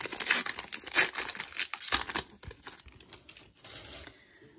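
A Pokémon Celebrations booster pack wrapper being torn open by hand, a close crinkling and tearing of foil that comes in quick bursts, then fades to quiet handling near the end.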